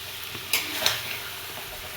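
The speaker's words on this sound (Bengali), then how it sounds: "মশলার উপরে এই চই ঝালটা আমি একটুখানি কষে নিচ্ছি" Chui jhal stalks being stir-fried in hot oil over spices for a kochu leaf dish, giving a steady sizzle with a few brief scraping stirs, close and moderately loud, with no voices.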